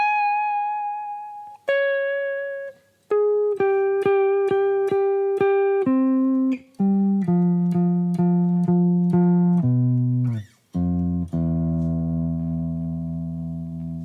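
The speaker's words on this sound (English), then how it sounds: "every time a note goes up in the melody, I'm going to drop it by an octave" A guitar plays a slow melody one plucked note at a time, each sustained note stepping lower as it drops by an octave with every change, ringing clearly and alone in a jazz fusion scale exercise.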